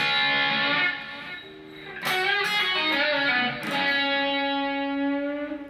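Sustained distorted electric guitar notes ring out alone, with a few brighter picked attacks partway through and a note bending and holding steadily toward the end.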